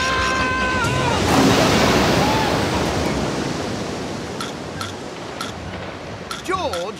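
Cartoon flood of river water rushing through a jungle, a loud broad roar of surging water that swells early and then slowly eases, with cartoon sound effects and squeaky bits near the end.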